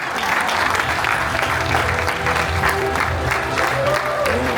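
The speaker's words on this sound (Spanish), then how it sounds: "Eso sí merece una aplauso" An audience gives dense, continuous applause with some light cheering, the clapping close and steady from start to finish.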